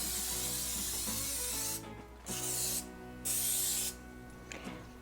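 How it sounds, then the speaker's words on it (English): Non-stick cooking spray is spritzed into a 13 by 9 pan in three short hissing bursts, close and fairly quiet, with faint clicking between them. "Take a 13 by 9 pan and spray it with non-stick cooking spray."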